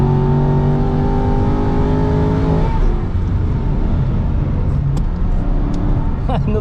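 An Aston Martin V8 Vantage GT4 race car's engine revs hard and steady on track, then its tone breaks at a gear change before climbing again, loud and close throughout.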